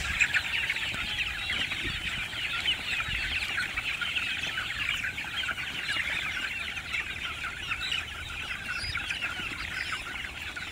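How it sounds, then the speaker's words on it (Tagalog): Young chicks about one month and twenty days old chirp and cheep continuously in a dense, steady chorus close by, with no talking over them. "kita nyo kung gaano ka-liliksin ng mga sisiw natin"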